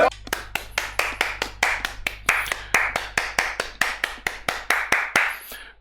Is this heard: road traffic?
no